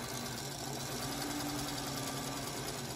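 Sewing machine running steadily while stitching quilt block fabric, a constant close-up motor hum with fine rapid needle rattle throughout, no voices.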